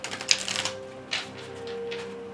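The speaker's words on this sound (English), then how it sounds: "Let me shuffle this one real quick." A deck of tarot cards shuffled close up, giving a run of quick papery flicks and taps followed by a few softer rustles over a faint steady hum.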